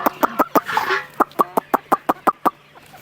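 Village chickens let out of a mesh coop cluck in a fast run of about a dozen sharp, loud calls close by, with a brief rustling flurry near the start.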